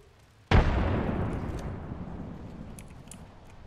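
A frag grenade in the video game Apex Legends detonates with one sudden, loud boom, followed by a long rumbling decay that fades slowly over several seconds.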